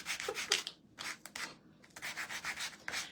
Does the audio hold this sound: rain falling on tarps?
no